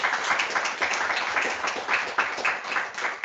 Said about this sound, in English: A final round of applause for our major speaker.